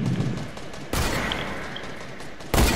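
Gunfire in a shooter video game comes as dense, sustained bursts of rapid automatic shots that start and stop in loud blocks, close and harsh, with no voices.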